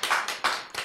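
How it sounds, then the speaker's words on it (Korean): Audience members at a lecture clapping, a quick close run of dense overlapping claps forming a few bursts in under a second. "어떤 사람은 박수를 치고 어떤 사람은 박수를 안 쳐요."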